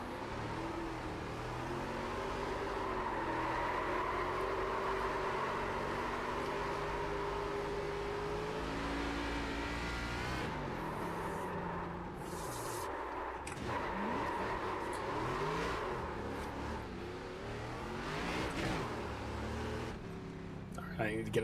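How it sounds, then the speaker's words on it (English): Virtual race car engine in the iRacing sim revs and drones steadily through repeated donuts, pitch rising and falling across the clip, with a person talking over it. "I practice my donuts for when I win."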